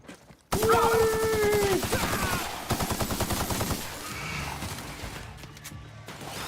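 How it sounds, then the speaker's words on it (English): Rapid gunfire in The Outer Worlds video game, a dense burst of shots followed by rhythmic firing, loud and close over game sound effects. "I'm shooting so many bullets"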